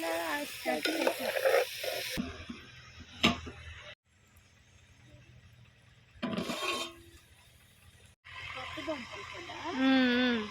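Potatoes frying in a pan on a wood-fired stove, a close sizzle with stirring scrapes that comes in bursts, someone talking over it at times.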